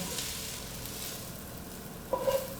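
Meat for a grandfather's spaghetti sauce browns in a pan with a steady, quiet sizzle, close up, ending with a brief utensil scrape and clink.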